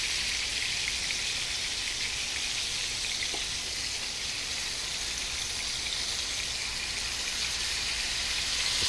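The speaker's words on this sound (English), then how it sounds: "we're just going to go ahead and sear our steaks" Steaks sear in hot oil in a pan, giving a steady, dense sizzle that holds at an even level throughout, close and unbroken.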